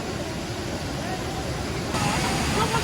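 Continuous broadband rush of a waterfall and strong current at Krka National Park, close and steady, swelling louder in the final second.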